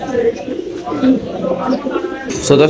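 Pigeons at a pigeon farm coo softly in low, repeated calls close by, mixed with other bird sounds, while someone talks over them.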